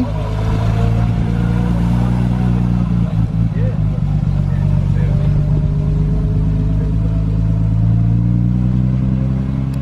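An old AC car drives close past at a car and bike enthusiast event in Sturminster Newton, a loud, steady, throbbing engine drone holding throughout with a slight rise and fall, crowd talk faintly underneath.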